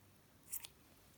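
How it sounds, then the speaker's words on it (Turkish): A single quick, close snip of scissors cuts through knitting yarn, faint and crisp against a quiet room. "Şimdi ipi kesiyorum."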